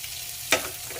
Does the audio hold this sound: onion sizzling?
yes